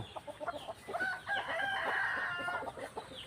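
Near a house, a rooster crows loudly and close by in one long drawn-out call, while other chickens cluck around it in short bursts before and after.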